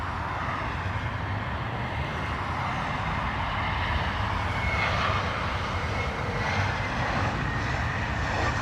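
Steady, loud roar of a jet airliner on approach to runway 28 left at Dublin Airport in a gusty crosswind, a continuous broadband rumble holding level throughout with a faint tonal whine rising near the middle.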